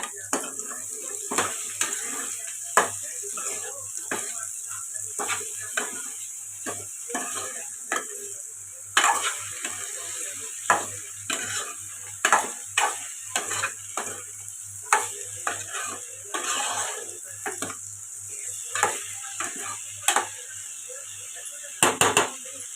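Spoon strokes scrape and clack repeatedly through a pan of potato and meal maker curry after salt goes in, irregular and close, over a soft sizzle and a low steady hum.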